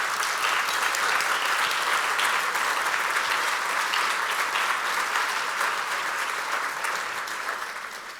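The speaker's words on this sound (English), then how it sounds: "can you raise your hand, please, so we can give you a round of applause?" An audience gives a sustained round of applause for clinicians at an arts benefit evening for FTD, dense steady clapping from a full room that slowly fades toward the end.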